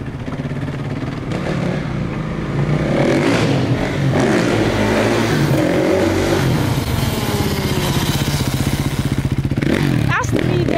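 A Kawasaki KX450F dirt bike engine revs loud and close, rising into a hard, throaty roar with rattling mechanical clatter, and voices can be heard around it.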